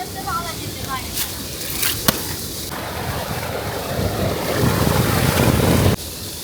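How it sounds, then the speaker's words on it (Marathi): Water rushing in an irrigation canal, a continuous loud roar with wind buffeting the microphone, growing heavier toward the end; faint voices may sit underneath. "पाटाला पाणी एवढं सुटलं की तिथे एवढं धब आवाज येतोय पाण्याचा"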